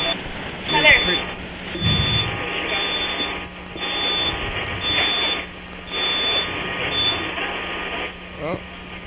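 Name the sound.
fast food fryer timer beeping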